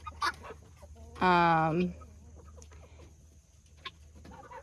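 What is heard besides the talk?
Bielefelder chickens clucking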